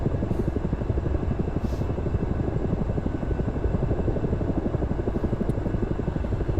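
Ka-50 Black Shark attack helicopter engines running in a flight simulator game during startup, a loud, steady turbine whine and rotor throb continuing unbroken without pause.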